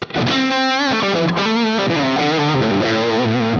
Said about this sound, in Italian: da qua inizio a mettere dentro un distorsore, lavoriamo con l'808 nel classico modo